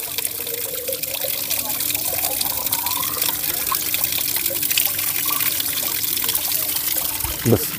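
Fresh mountain spring water pours steadily into a bottle at a spring on Vitosha, a continuous close trickle and splash that rises slightly in pitch as the bottle fills.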